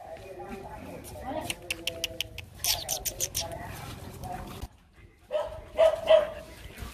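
A litter of puppies yips and barks in short, high bursts, some in quick runs, close by and mixed with people talking and bird calls.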